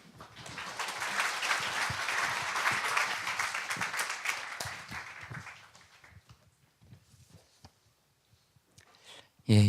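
A church congregation at a Friday service gives warm, sustained applause to welcome Pastor Wang Jeong-won. The clapping is dense for about five seconds, then thins and fades, leaving near-silence and faint sounds.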